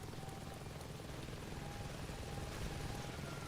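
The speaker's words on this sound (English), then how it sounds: "Helicopter? Oh shit." Faint video game helicopter rotor chopping steadily at a distance in Saints Row 2, a continuous whirring drone with no voices over it.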